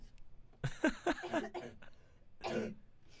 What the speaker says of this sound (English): I'm trying to cough out of the speaker